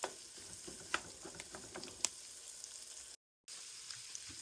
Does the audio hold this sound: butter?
yes